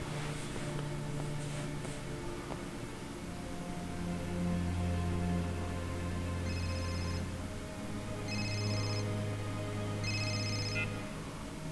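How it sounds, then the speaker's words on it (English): A phone ringing inside the video game Serious Sam 3: BFE, sounding as three short repeated electronic ring bursts in the latter half over a steady bed of game music and ambience. "I just heard a phone go off there."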